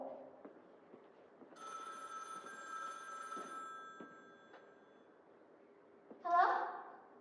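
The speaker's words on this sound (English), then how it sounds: "You better answer that phone." An old-fashioned telephone bell rings in a long, steady trill, fairly faint, with soft background noises around it and a brief louder burst near the end.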